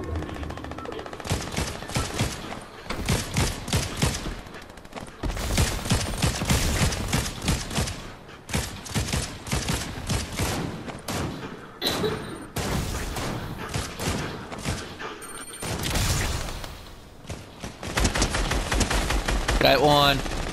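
Repeated bursts of video game gunfire in Doom, with rapid automatic volleys and single shots coming loud and close, broken by short pauses, while players talk over it.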